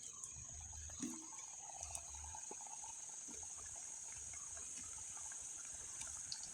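Steady rain falls without a break, a dense, even hiss with scattered soft drips and ticks, heard from a short distance with no talking.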